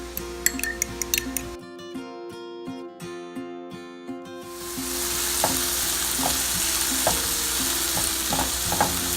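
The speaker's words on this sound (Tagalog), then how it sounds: "Habang ginigisa po natin yung kamatis dun sa bawang at sibuyas" Tomatoes sautéing with garlic and onion in a pan, preceded by rhythmic ticking and light tapping clicks, then a steady crackling sizzle with occasional spoon taps against the pan.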